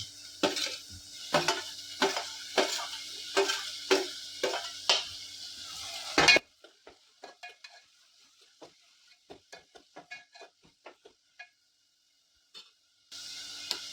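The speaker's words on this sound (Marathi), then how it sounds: "कांदा छान पोळायला सुरुवात झालेली आहे मित्रांनो ह्याच्यामध्ये आपण हा बारीक चिरलेला टॉमॅटो घालतो" Chopped onion and finely chopped tomato fry in a pan for spiced dried-fish rice, with a run of loud, regular stirring scrapes and sizzle over the first half, then quieter scattered clicks and light frying.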